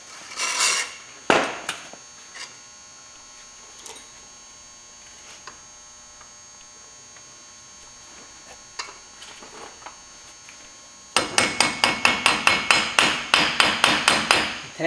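Hammer blows on the CV axle of a 2002 Chevy dually truck's front end during wheel bearing work: scattered sharp knocks early, then a quick run of about a dozen loud, evenly spaced metallic taps at the end over a steady hum.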